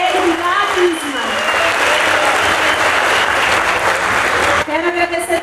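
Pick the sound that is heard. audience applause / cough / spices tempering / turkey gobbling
audience applause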